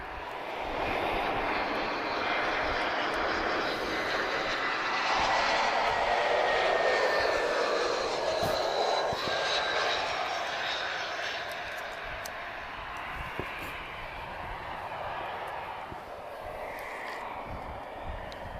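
British Airways airliner at Lisbon Airport, a broad engine roar that swells to a peak mid-way and then slowly fades, with a voice talking over it.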